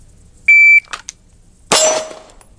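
A shot timer gives one short, sharp electronic beep at a range session with a Nighthawk Custom President pistol in 30 Super Carry. About a second later comes a loud gunshot with a fading tail.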